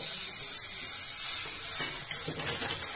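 A breakfast pancake is turned over in a hot pan, with a soft, steady sizzle and a few light scraping touches near the end, and no voices.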